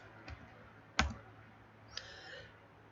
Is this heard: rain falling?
no